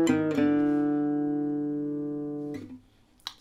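Gypsy jazz guitar lick, played as a few quick plucked notes that settle into one long ringing note. The note fades slowly before a short final pluck, alone with no talking.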